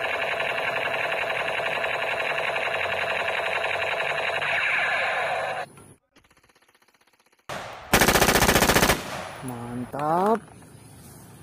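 An MPX assault rifle in a video game rattles off a long, steady automatic burst, then after a brief gap a second loud, harsh burst cracks out, with a few echoing tail shots trailing at the end.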